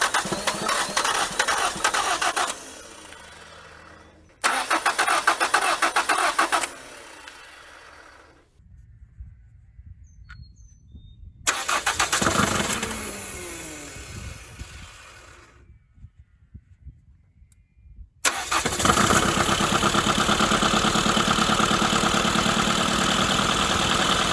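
A 1980 Dodge Colt Challenger engine cranking, catching and idling roughly on the choke after a carburetor install: repeated starting attempts with gaps of silence, then a steadier idle near the end.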